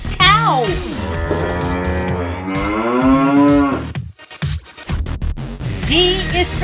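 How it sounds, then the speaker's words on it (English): A cow moos loudly in a long, drawn-out low call with rising and falling pitch, followed by shorter lowing sounds, heard up close and alone. "C is for cow."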